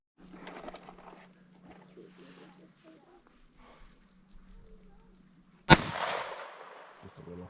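A single sharp gunshot aimed at a Tannerite target cracks out loud and close, its harsh burst trailing into a rumbling decay after quiet moments of low talk.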